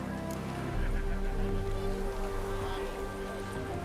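A horse in The Witcher 3 gives a whinny over a steady bed of game ambience that sounds like rain, with no talking over it.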